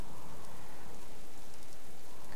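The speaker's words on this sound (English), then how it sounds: "I wish it wasn't raining all the time, honestly." Rain falls steadily in the hunting survival game Subsistence, a constant dense hiss of drops on surfaces at an even loudness, with no speech.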